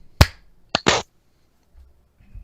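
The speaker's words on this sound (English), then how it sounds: "we're gonna do a sync clap" A single sharp hand clap marks a sync point for a podcast recording, followed by a couple of brief softer knocks or handling sounds, then near silence in a quiet room.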